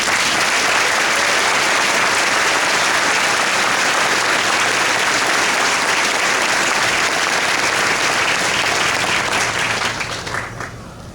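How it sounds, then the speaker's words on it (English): Crowd in outdoor bleachers applauding newly graduated Rangers at a ceremony, a loud, dense and continuous burst of clapping from many people that tapers off only at the very end. "Please join us in a round of applause for these outstanding Rangers."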